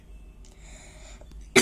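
A single sharp cough bursts out at the very end after near-silence with faint background hum, close to the microphone and loud.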